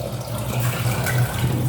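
Boiled water from a kettle pours steadily into a cooking pot on a stove with rice, a continuous close splashing stream with a low gurgle.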